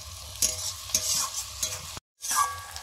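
Onions sizzle and fry in a hot pan with turmeric, red chilli powder and green chilli as a spoon stirs and scrapes in repeated strokes, with a brief silent cut before the frying resumes.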